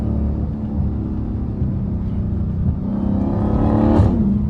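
A straight-piped Dodge Hellcat roars loud and close in a deep, continuous engine rumble that climbs as it revs and accelerates, with no talking.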